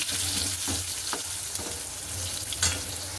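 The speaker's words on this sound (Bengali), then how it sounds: "এখানে দিয়ে দিয়েছি কড়াইতে আলু এগুলো ভেজে নিই" Steady, close sizzle of potatoes frying in a wok, with a few soft scrapes and clicks of stirring, continuous throughout.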